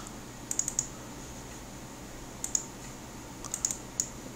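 Wireless mouse buttons clicked beside a Toshiba NB205 netbook: a few sharp, faint clicks in small clusters over a quiet background hum, with no talking.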